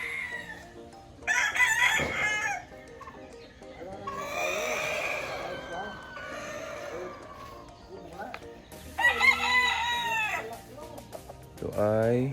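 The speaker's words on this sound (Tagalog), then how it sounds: "Ito yung straight comb na Kelso" A straight-comb Kelso gamecock crows loudly several times on a gamefarm, with clucking from other fowl and people talking over the calls.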